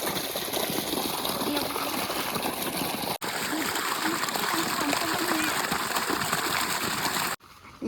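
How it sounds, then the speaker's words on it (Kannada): Water pours and splashes steadily for foot washing at the close of a village festival, a loud continuous gushing stream that stops briefly once, with voices faintly underneath. "ಕಾಲು ವಾಷಿಂಗ್"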